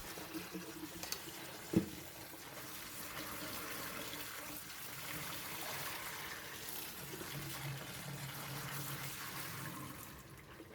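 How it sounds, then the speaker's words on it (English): Soaked red beans being washed in water, a continuous soft sloshing and running-water wash with one brief knock early on, fairly quiet and without talk. "Wash it at least 3 times."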